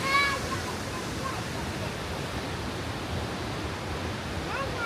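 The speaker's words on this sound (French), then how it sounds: "C'est la cascade de la Druise, De la Druisse. dans la Drôme." The Cascade de la Druise in the Drôme pours as a steady, broad rushing hiss of falling water, continuous and fairly close, with a few faint voices over it.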